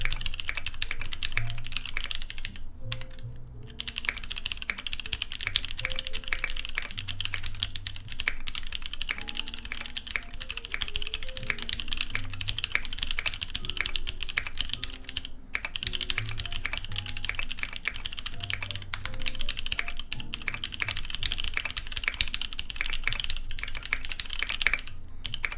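Steady, fast typing on a Portico 65% mechanical keyboard fitted with Dragonfruit switches, dense keystrokes clattering continuously and close up for the whole stretch, with a few brief pauses.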